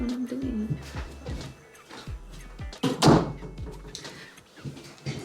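A cat pushes a door open, giving a few close thunks and a louder knock of the door near the middle, set against quiet room noise.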